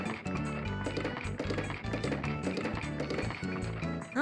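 A horse trots in the Harvest Moon: Tale of Two Towns game, its steady, rhythmic hoof taps running under bright, continuous game music.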